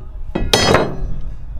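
Crowbar prying at a 93-year-old bandsaw's shaft, with a wheel stuck about half an inch off: a few sharp metallic clanks and a grinding scrape, close and fairly loud, with no talk.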